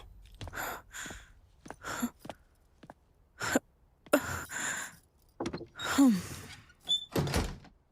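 A door in a home is shut and locked, with a few separate thuds and clicks spread across the moment. Faint breaths and movement sound between the knocks, and nobody speaks.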